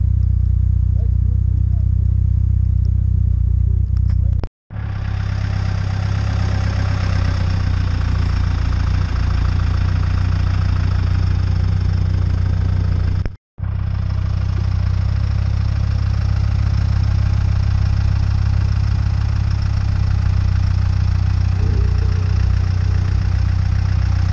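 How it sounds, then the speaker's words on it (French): A steady, loud tractor engine drones at idle with a deep low rumble, briefly cutting out twice, with faint voices at moments. "Là, le tracteur."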